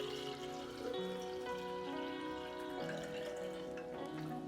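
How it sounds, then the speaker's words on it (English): Filtered water poured into a small blender glass, a steady bright pouring trickle with shifting pitch as the glass fills, close and alone for several seconds. "I'm going to pour about 8 ounces of filtered water into my little blender"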